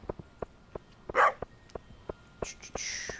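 A dog in the farming video game Stardew Valley gives a string of short, sharp barks at an irregular rhythm, followed by a brief whine-like yelp and quiet game chimes, with no voices.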